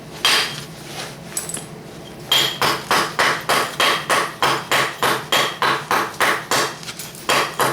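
Sharp, ringing strikes of basalt being knapped with a dogwood punch, a few scattered taps and then a fast, steady series of about twenty close, loud blows.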